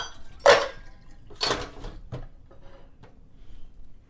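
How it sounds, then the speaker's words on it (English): Dishes, pots and cutlery washed in a kitchen, with a few distinct clinks and clatters spaced about a second apart, close by, followed by quieter handling sounds. "I actually have some dishes that I need to do here"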